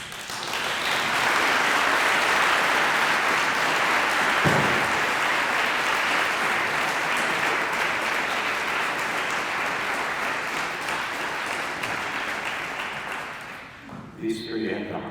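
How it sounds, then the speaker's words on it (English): Sustained, loud audience applause fills a high school auditorium at an Every 15 Minutes event, a dense steady roar of clapping that tapers near the end. "And I think they deserve a round of applause"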